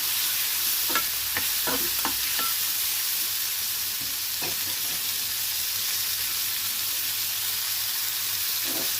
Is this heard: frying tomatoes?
yes